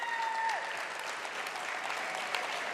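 Dense, steady applause fills an award banquet hall for a women's track and field athlete, with a brief whistle-like tone near the start.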